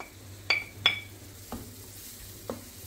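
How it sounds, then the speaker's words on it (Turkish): A spoon stirs stringy cheese into bubbling kuymak in a pan, a few distinct clinks and taps against the metal over a soft, low sizzle, heard close with no talk. "Peynir eriyene kadar karıştırıyorum."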